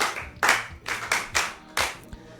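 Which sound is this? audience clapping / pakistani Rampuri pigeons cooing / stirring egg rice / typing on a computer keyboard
audience clapping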